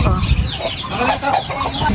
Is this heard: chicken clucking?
yes